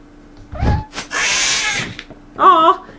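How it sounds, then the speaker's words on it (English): A cat meows in the video game Kathleen Saves the World, a short, clear, close mew heard twice amid other game noises and a burst of broadband rustle. "I don't like that cat noise."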